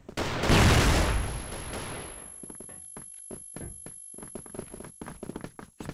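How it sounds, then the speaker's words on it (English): A smoke grenade bursts in the video game Crossfire with a loud, broad hiss that fades over about two seconds, followed by scattered close knocks and taps. "Smoking grenade."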